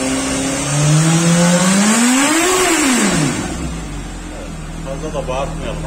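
A Suzuki GSX-S750 motorcycle exhaust revs sharply, climbing to a loud peak and dropping back to a rumbling idle, with voices talking nearby.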